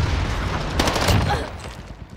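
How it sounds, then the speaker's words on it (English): Airstrike explosions in Call of Duty Warzone, a loud rumbling barrage with dense rolling booms and rattling impacts that swell in the middle and then fade, with voices faintly mixed in. "Airstrike. Hit it."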